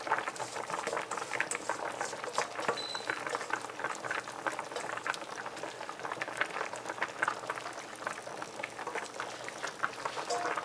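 Kamjatang, a Korean pork neck bone soup with potatoes and vegetables, boils in a pot with a steady crackling bubble and patter of many small bursts, close and continuous with no voices.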